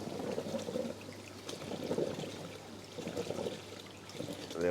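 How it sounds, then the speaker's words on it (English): Water surging from a Carlson surge device into a large reef tank display, a continuous rushing, splashing flow with uneven swells in loudness, steady throughout and heard alone. "So that is a crazy amount of water that's going into this display"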